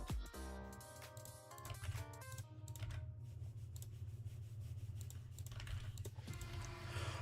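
Steady clatter of keys being typed on a computer keyboard during a live coding stream, dense and continuous under a low electronic hum, with no talking.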